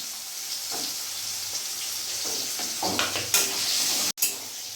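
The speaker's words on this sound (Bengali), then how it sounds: "এর মধ্যে আমি পটলগুলো ভেজে নেবো।" Pointed gourd (potol) frying in hot oil: a steady, close sizzle with intermittent scraping and stirring clicks that build toward the end, then one sharp clatter and a brief drop out.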